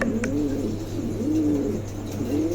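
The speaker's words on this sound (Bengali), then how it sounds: "খুবই চমৎকার এক জোড়া কবুতর আছে, দেখেন ঠোঁটগুলো কত সুন্দর" A pair of white king pigeons cooing close by, soft rolling coos repeating about three times in a slow rhythm over a steady background hum.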